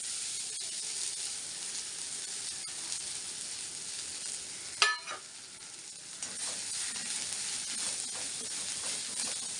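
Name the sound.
methi leaves sizzling in hot oil in a kadai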